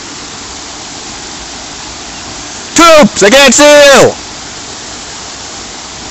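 Steady rushing waterfall in a video game, a broad even roar running the whole way through, with a voice briefly shouting over it near the middle.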